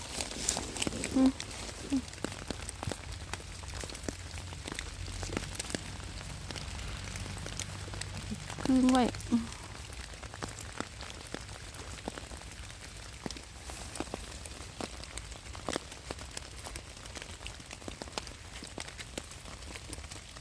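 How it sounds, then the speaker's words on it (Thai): Rain patters steadily in a German forest in late December, scattered drops ticking on leaves and ground throughout, with a person talking over it now and then. "อากาศธรรมดาฝนตกนะ"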